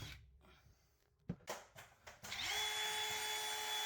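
A Dewalt DCF620 collated screwgun drives a drywall screw through plasterboard into a wood stud on a ceiling, with a few short clicks and knocks followed by a sustained motor whine.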